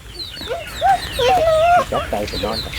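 Chickens cluck and call in a Thai farmyard on a windy day, a mix of short clucks and one longer drawn-out cry, fairly close and moderately loud, with some speech-like murmur mixed in.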